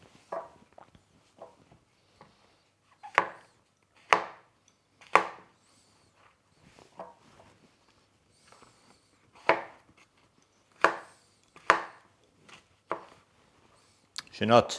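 Knife slicing portobello mushrooms into pieces on a board outdoors, a handful of sharp, close cuts spaced irregularly with quiet gaps, while someone speaks briefly between them.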